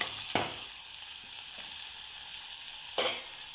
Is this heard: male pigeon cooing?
no